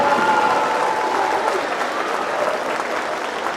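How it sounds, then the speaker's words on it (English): A school audience applauds the 5th and 6th grade band members at a district band festival, a steady, dense wash of clapping that holds level for the whole stretch and fades only slightly toward the end. "can we give one more round of applause to our 5th and 6th grade band members?"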